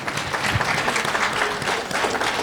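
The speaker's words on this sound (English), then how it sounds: "let's give them a round of applause." A crowd applauding steadily for a couple of seconds, dense clapping without pauses.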